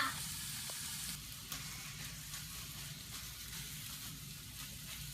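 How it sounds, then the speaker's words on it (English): Hamburger meat fries in a pan for chili, giving a steady, close, quiet sizzle with soft crackle and a brief stir noise, no talk. "You hear that sizzle? She's cooking."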